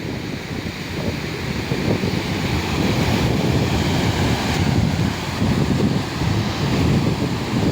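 A constant, heavy rush of the Progo River flowing at the Srandakan dam roars steadily, broad and close, with some wind buffeting the microphone and no voices.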